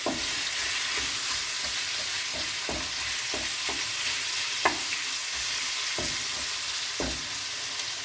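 Butter chicken curry ingredients sizzle steadily in a hot pan, a dense continuous frying hiss broken by repeated sharp clacks and scrapes of a utensil stirring at irregular intervals.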